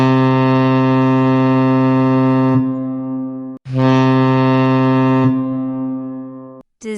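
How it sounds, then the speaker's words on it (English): A rescue boat sounds its deep, droning horn in two long blasts with a brief gap between them, loud and close, followed by the start of a third that is cut off. "Here is the sound of rescue boat."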